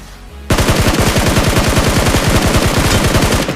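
Rapid automatic gunfire in a battle royale video game: a fast, steady stream of loud, close shots that starts abruptly and keeps firing without pause for several seconds.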